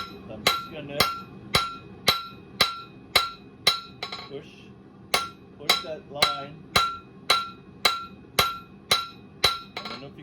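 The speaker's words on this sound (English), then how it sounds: "I'm moving my hammer slightly" A blacksmith's hammer planishing hot steel on an anvil rings out in about twenty sharp, evenly spaced metallic strikes with bright clinking overtones, close and loud, while someone briefly speaks between blows.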